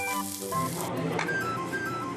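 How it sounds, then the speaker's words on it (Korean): Beef grilling at a butcher-shop restaurant gives off a steady, close sizzle that runs the whole way through, with a faint tonal hum underneath. "지글지글 구워지는 게 참 맛있어 보이네요."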